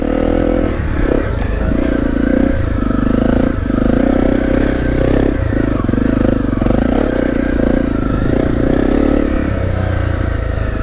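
A dirt motorcycle rides a loose trail, its engine droning loudly and steadily throughout with surging revs, clatter and scraping from the rough ground.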